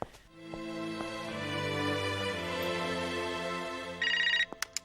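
A telephone rings for an incoming call at home, a sustained electronic ring that runs several seconds, moderately quiet, ending with a few short clicks and no talk.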